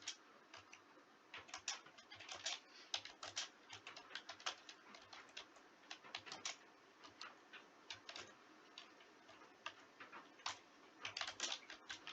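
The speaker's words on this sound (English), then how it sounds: "I'll go ahead and type that in here." A computer keyboard is typed on at close range, with quick, irregular bursts of clicky keystrokes, light and fairly quiet, and no talking.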